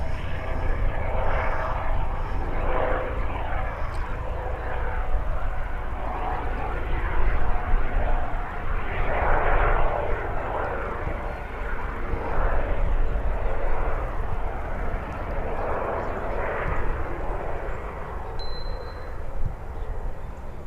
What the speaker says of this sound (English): Aer Lingus on arrival.